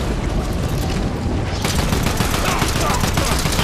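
Rapid video game gunfire, dense loud automatic bursts that run throughout and grow fuller partway through, with players talking over the shooting.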